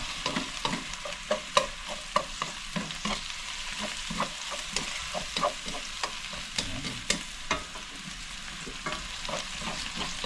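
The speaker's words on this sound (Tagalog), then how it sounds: "Gisa lang po natin." Garlic and onion sauté in a pan, stirred with chopsticks, producing a continuous close sizzle with frequent light tapping and scraping strokes. There is no talk.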